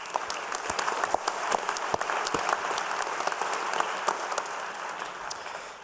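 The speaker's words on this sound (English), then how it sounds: "So please give yourselves a round of applause." Audience applause at a school valedictory ceremony, a dense, steady wash of many hands clapping at moderate distance, sustained for the whole stretch before easing slightly at the end.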